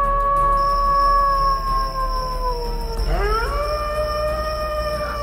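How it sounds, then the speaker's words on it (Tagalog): Mountain dogs howl in long, wavering sustained tones that slide and bend, with several overlapping voices and a steady high whine behind them, fairly loud and continuous, no talking. "Panay noon ang mga alulong ng mga asong bundok"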